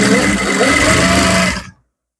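Sewing machine stitching over piping on a blouse's closed neckline, a steady dense motor whir running loud and continuous for about a second and a half before stopping abruptly.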